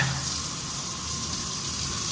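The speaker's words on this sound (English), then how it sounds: "this is your hot shower" Hot water runs steadily from a shower inside a heated truck camper, a continuous close hiss of spray with no talking.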